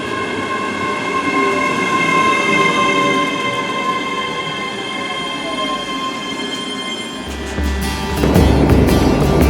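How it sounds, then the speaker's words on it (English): A ScotRail train on the Edinburgh to Glasgow line runs from Linlithgow towards Polmont, heard from on board as a loud, steady rolling rumble with a whining motor tone, then a heavier clatter and squeal near the end. "I have to leave Linlithgow on the 1434 ScotRail service to Glasgow Queen Street"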